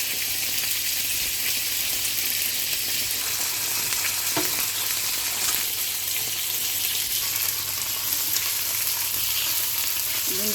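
Onion and garlic fry in oil with a dense, continuous sizzle close by, and occasional faint clinks and stirring sounds come through over the steady crackle.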